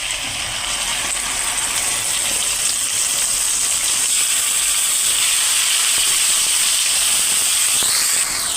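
Blended spice paste sizzles in a pan while cooking Hyderabadi chicken kosha, giving a steady, fairly loud hiss with a thin high whine running over it.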